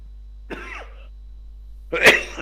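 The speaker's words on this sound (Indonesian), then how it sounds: "Kena flu batuk" Two coughs close by from someone with flu, a short rough one followed after a pause by a louder, harsher cough.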